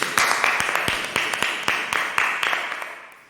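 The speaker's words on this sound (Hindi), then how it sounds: "तो आइए हम जोरदार तालियों से स्वागत करते हैं।" A church congregation claps in unison during a service, steady rhythmic hand claps repeating roughly every quarter second, fairly close and loud, tapering off toward the end.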